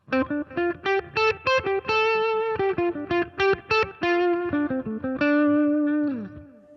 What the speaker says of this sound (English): It's almost like using delay as reverb